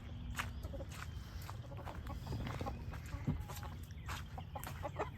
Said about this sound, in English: Here's all the chickens.